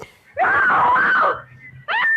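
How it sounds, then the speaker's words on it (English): A woman lets out a long, loud, wavering scream, then a second shorter cry after a brief pause, close and alone with no talk. "A woman screamed and cried for help on the Wayfield Common"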